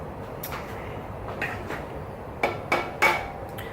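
Bolt head tapping gently on a Mazda Miata engine camshaft during a teardown; a few sharp, close metallic knocks, scattered at first and then three firmer taps near the end.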